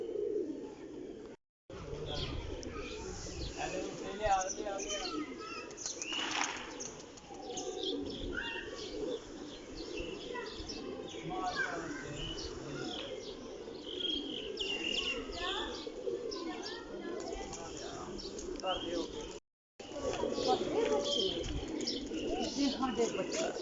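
Salara pigeons coo repeatedly throughout, soft and low, with chirps and occasional wing-flapping rustles while people talk nearby.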